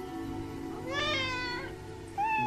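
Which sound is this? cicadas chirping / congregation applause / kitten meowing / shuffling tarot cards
kitten meowing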